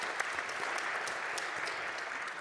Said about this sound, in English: Applaud for Katja